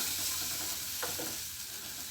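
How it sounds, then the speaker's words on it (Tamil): Steady bubbling and sizzling of a thick tamarind and fenugreek gravy (Chettinad venthaya kuzhambu) simmering in a pan, with a couple of brief stirring scrapes; no voices. "அது வரையும் நம்மளுக்கு நல்லா கொதிக்கட்டும்"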